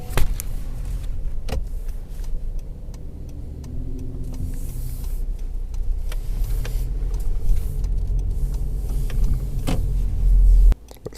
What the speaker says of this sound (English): we are in the all new 2025 Honda CRV LX edition, and we are going to take this for a night drive